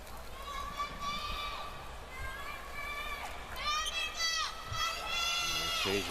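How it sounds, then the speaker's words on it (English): Basketball arena crowd at a FIBA Asia Cup qualifier between Korea and Australia, a steady murmur of spectators with scattered individual shouts and calls rising above it, under continuous commentary. "Occasional shout out from the crowd."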